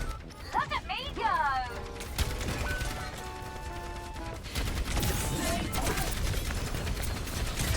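Orisa's weapon in Overwatch 2 fires in rapid, sustained bursts amid mechanical whirs and other match sounds, with a voice speaking over the action.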